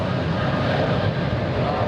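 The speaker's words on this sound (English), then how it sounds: "787 Dreamliner flying to Miami, Florida" A Boeing 787 Dreamliner airliner flies near LAX, a loud, steady engine roar filling the brief moment without a break.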